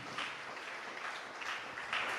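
Steady applause from a church congregation during a sermon, sustained clapping throughout at a moderate level with no voices standing out.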